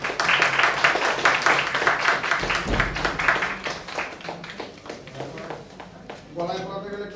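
An audience at a Rotary Club golden jubilee closing ceremony breaks into steady, fairly close applause, many hands clapping at once, while a voice speaks over it before the clapping thins out.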